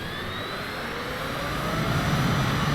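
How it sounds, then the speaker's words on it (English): SR-71 Blackbird jet with afterburner in Microsoft Flight Simulator, a loud steady jet roar with a rising whine that swells louder partway through. "Afterburner should kick on here."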